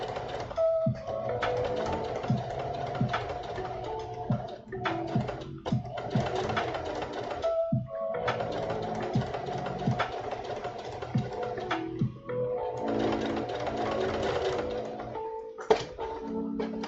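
A sewing machine stitches spiders onto a symbiote suit, running in steady mechanical bursts with short pauses between passes, close and clear with no talking.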